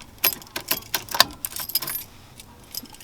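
A brass killswitch key for a Datsun 280Z is handled close by, giving a string of light metallic jingles and clicks that thin out toward the end.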